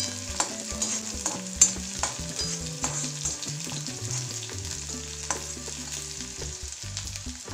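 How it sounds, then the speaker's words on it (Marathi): Two finely chopped green chilies sauté in a pan with a soft sizzle, broken by repeated, fairly close spatula scrapes and taps, quiet overall with faint background music. "याला आपण थोडं परतून घेऊ."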